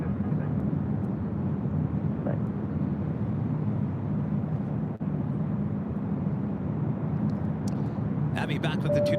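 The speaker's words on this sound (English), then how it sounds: "Flight 269, coming in from London. Today it's a 777-300ER." Boeing 777-300ER airliner arriving at LAX from London, a steady broad jet roar holding loud and even throughout, with faint radio chatter and brief talk near the end.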